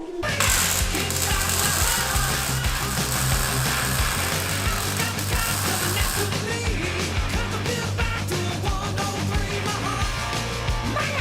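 Tack welding on go-kart axle parts for a KX250-powered kart build gives a steady buzzing, crackling arc that runs almost without break, loud and close, with no talk over it.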